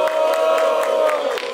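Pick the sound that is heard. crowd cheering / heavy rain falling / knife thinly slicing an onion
crowd cheering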